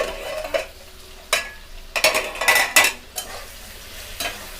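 Aubergine and potato pieces browning in a pan, a soft low sizzle broken by several sharp, close spatula scrapes and stirring clatters at irregular intervals, with no talking.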